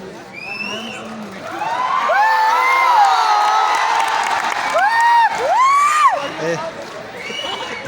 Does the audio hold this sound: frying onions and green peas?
no